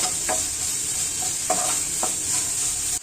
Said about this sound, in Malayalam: അതുവരെ ഒന്ന് ഇളക്കി കൊടുത്ത് ഇതൊന്ന് മിക്സ് ചെയ്തെടുക്കാം